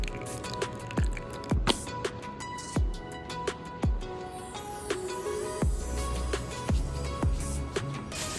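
Kewpie mayonnaise and Sriracha squeezed from bottles into a tuna and tofu patty mixture, giving a string of wet squishy squirts and drips at an uneven rhythm, close and fairly quiet with no talking.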